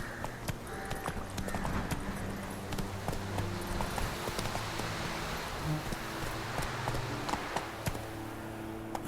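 Horse hooves beat in a quick, steady galloping rhythm from The Witcher 3: Wild Hunt, moderately loud and continuous, with soft rustling in the background.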